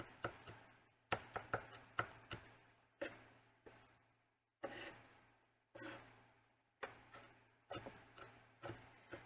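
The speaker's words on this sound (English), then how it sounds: "I'll give them a little bit of a chop too." A Cutco knife chops vegetables on a cutting board in quick bursts of sharp, close taps, pausing briefly between runs of strokes.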